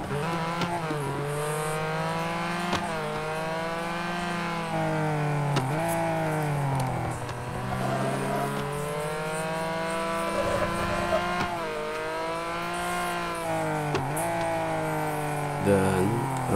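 Race car engines in Real Racing Next on Android whine and rise through gear changes, the pitch climbing and dropping repeatedly as cars run side by side, with a commentator speaking over them.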